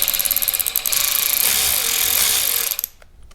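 KIMO cordless electric ratchet loosening a bolt on an engine: a loud, close mechanical whir with fast clicking pulses at first, running steadily for almost three seconds before cutting off abruptly.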